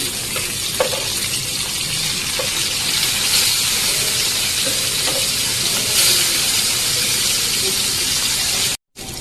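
Fish sizzles loudly in a hot pan with a dense, continuous crackle and faint stirring, briefly cutting out near the end, with no talking.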